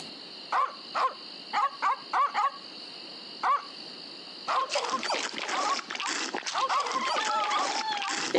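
Dogs barking in The Secret of Monkey Island: a string of short, evenly spaced barks over a steady tone, then busier splashing and game sounds with a voice speaking over them.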